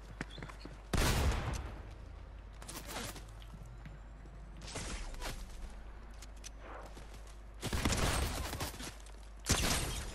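Gunfire in Fortnite Chapter 4 Season 1: several loud bursts of rapid shots, some close and harsh, separated by quieter stretches of in-game ambience with faint footsteps.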